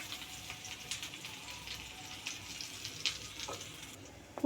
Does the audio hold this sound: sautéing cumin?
yes